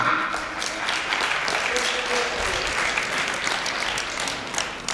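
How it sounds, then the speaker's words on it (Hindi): A seminar audience in a hall applauds steadily at moderate volume, a dense even patter of many hands clapping without pause. "हाँ, तालियां।"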